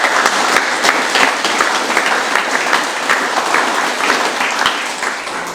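A crowd at the grand opening of the Menz Shed in Morrinsville gives a round of applause, with full, lively clapping that holds steady and then begins to taper off at the end.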